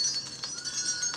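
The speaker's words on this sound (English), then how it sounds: "You hear the wind chime?" Delicate glass wind chimes tinkle softly with a few scattered bright rings, faint and unhurried, with no voices.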